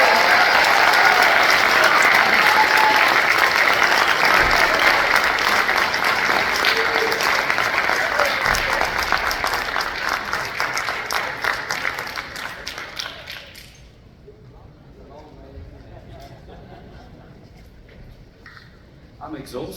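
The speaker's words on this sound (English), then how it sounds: "You could have carried on clapping while I did the walk" Audience applause at an arts studio event welcoming a guest to the stage, a full, loud wash of many clapping hands that fades over about twelve seconds into quiet room noise with some talk.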